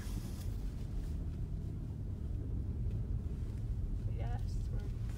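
A car driving through snow, with a steady low engine and road rumble and wind noise close on the microphone; it continues evenly throughout.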